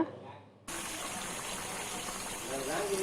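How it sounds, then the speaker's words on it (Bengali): After a brief quiet moment, boiled hot water gushes steadily into a curry in a pot, a continuous pouring rush that swells slightly toward the end. "ফুটানো গরম পানি দিয়ে দিচ্ছি ঝোল"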